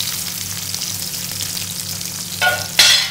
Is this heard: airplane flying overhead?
no